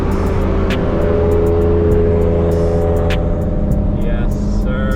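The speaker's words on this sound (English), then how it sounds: "so much louder with this new exhaust compared to the old setup" A car with a new, louder aftermarket exhaust drones and revs loudly nearby in a sustained low rumble, with occasional sharp clicks and squeaks over it.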